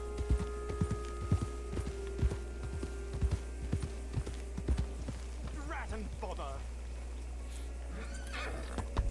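Horse in Red Dead Redemption 2 neighing and whinnying mid-clip over steady clip-clop hooves, with a game music drone and speech underneath.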